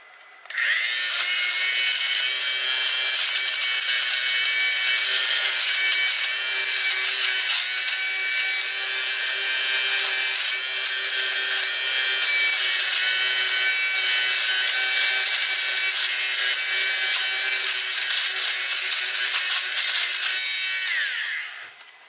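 An electric lint shaver runs continuously against knitted fabric, cutting off pills with a steady, close, high-pitched whirring buzz that starts abruptly and stops at the end, with no talk.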